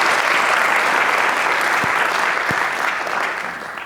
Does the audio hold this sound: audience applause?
yes